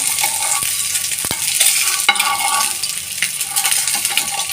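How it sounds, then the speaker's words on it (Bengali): Eggs for a bhuna fry in mustard oil, a dense crackling sizzle with sharp clinks and scrapes of a utensil stirring against the pan, steady and close throughout. "সরিষার তেলে রান্না করতেছি বর্তমানে।"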